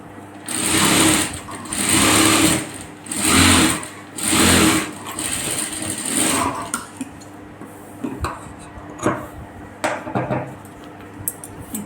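A sewing machine stitches a blouse back panel in a tailoring lesson, running in four steady whirring bursts with short pauses, then a few lighter clicks and handling noises.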